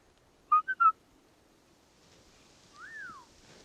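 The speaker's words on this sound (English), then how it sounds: "So if I whistle," Three quick, sharp whistle blips, then a longer single gliding whistle note a moment later, made by a person signalling in a forest in the foothills of the Rockies, fairly distant over a faint outdoor hush.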